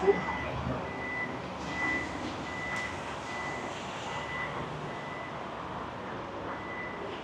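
Power tailgate of a 2022 Toyota Fortuner 2.4 Leader V opening, with repeated warning beeps over a steady outdoor hum and low background noise, moderately close.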